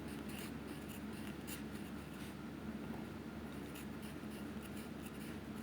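Chalk or marker writing on a classroom board during a Sanskrit lesson, a steady scratchy rubbing that continues without pause under a constant low room hum, with no speech.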